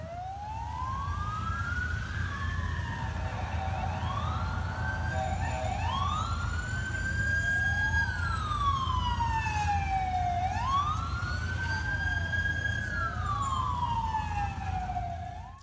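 Fire engines at a large fire in Kyiv sound their wailing sirens continuously, several overlapping rising and falling tones, loud and near over a rumbling traffic background.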